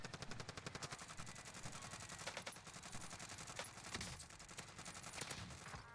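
Krig 6 assault rifle fired in the video game Warzone: rapid, evenly spaced automatic shots ring out in steady close bursts almost without pause, loud and alone.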